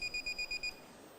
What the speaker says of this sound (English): Bell's gone.